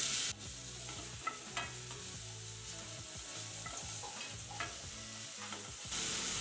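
Cumin and green chilli paste sizzle steadily in hot oil in a pan, with occasional stirring scrapes and clinks over the continuous frying hiss, close up and with no talking.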